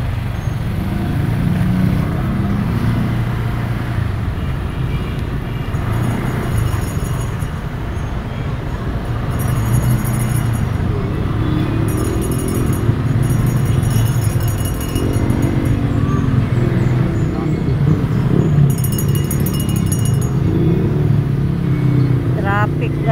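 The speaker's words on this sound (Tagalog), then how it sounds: "Traffic." Road traffic in a barangay in Iligan, Mindanao: a low rumble of cars and motorcycles with engines passing and idling nearby. Recurring bursts of high-pitched tone come through, and people talk over it.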